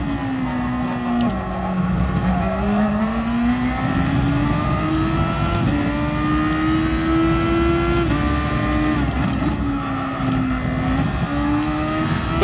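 Thor car engine in a racing video game, a steady loud drone rising and falling in pitch as the throttle is fed in and eased, with no talk over it.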